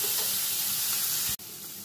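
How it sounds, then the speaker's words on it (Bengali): Potato and kakrol (spiny gourd) sizzle steadily in a hot pan, a loud, even frying hiss broken by a single sharp clatter near the end. "আমার আলু কাঁকরোলটা ভাজা হয়ে গেছে"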